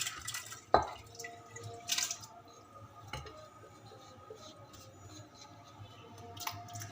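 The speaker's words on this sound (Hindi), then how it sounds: "अब मैं इसमें दाल डालती हूँ।" Soaked lentils go into hot water in a cooking pot with soft splashes, drips and a few glassy clinks over a low background hum.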